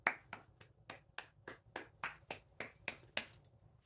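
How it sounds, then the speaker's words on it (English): One person clapping hands alone in a quiet room, a quick, even run of about a dozen crisp claps, close and fairly soft, with no voices. "A round of applause."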